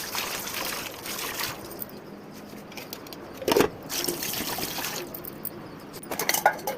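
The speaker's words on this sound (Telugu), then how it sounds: "ఇంకా గిన్నెలన్నీ సింక్లో వేసి నీళ్ళు చల్లేస్తాను" Running water splashes and trickles onto dishes in a sink, rising and falling in bursts, fairly close and moderately quiet.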